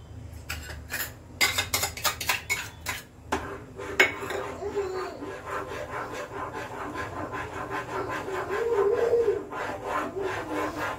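A utensil scrapes and knocks around a pan in rapid rhythmic strokes as milk with almond paste is stirred, loud clatters early, then softer steady scraping with a gentle simmer underneath.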